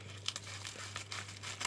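Paper envelope being cut open with scissors, giving crisp crinkling and snipping bursts at close range over a steady low electrical hum.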